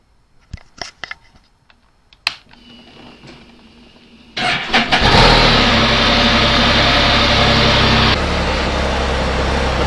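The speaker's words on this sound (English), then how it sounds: "So I'm going to go ahead and fire up the Spyder and make sure that the repairs work." A Can-Am Spyder is started in a garage: first scattered clicks and clatter, then the engine catches with a loud burst and settles into a strong, steady close-up idle.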